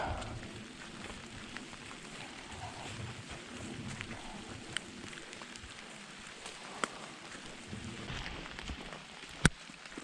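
Steady rain falling through a spring forest at a backpacking campsite in Zaleski State Forest, a continuous soft hiss of drops on leaves with occasional sharper taps, moderately faint and with no talking.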